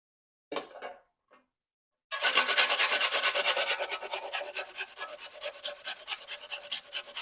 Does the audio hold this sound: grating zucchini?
yes